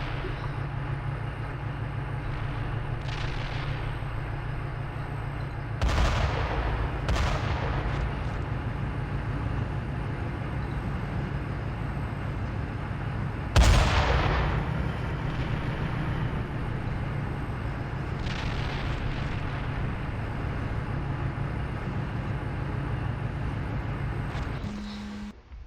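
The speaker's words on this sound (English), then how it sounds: "Get those mortars in the fight." Mortar fire in the Steel Beasts Pro tank simulator shows up as a few sharp, distant thumps, one louder than the others, over a constant low engine drone.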